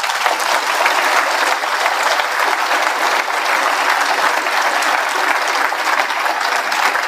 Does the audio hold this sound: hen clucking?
no